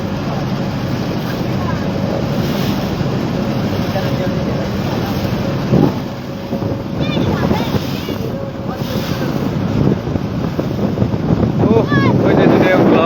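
Wind buffets the microphone aboard a trawler out on a haor near Tanguar in Sylhet, with choppy waves and water rushing around the boat in a loud, continuous roar; a voice speaks now and then.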